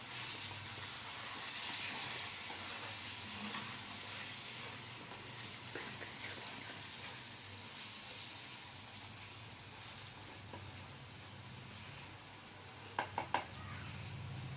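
Chicken curry stirred in a pan, a steady hiss of sizzling with soft scraping stirs underneath, ending in a few sharp clicks near the close.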